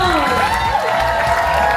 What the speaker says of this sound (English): One more time, round of applause for our lovely couple